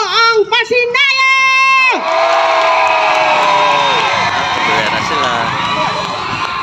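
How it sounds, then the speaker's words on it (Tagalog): A loud festival crowd at the Pasinaya festival at PICC Pasay erupts in sustained cheering, whooping and shouting right after a brief amplified voice calls out, filling the space with a dense roar. "Isang malakas na hiyaw kung gustong gusto nyo ang Pasinaya!"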